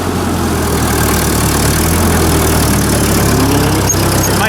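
A vehicle engine idles steadily while it warms up ahead of tuning, making a loud, continuous low rumble with a constant throb and no voices.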